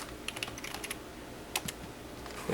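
Computer keyboard typing during electronics circuit-board design work: scattered, crisp key clicks in small bursts, close and moderately loud, with a short pause in the middle and no speech.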